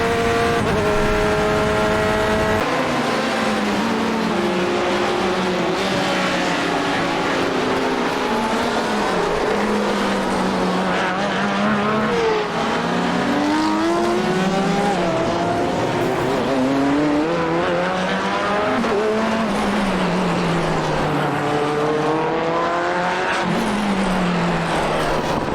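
Corvette C8.R race car on the Long Beach street circuit in iRacing, its engine droning loud and close throughout with rising and falling revs through shifts and corners, plus faint tire squeal.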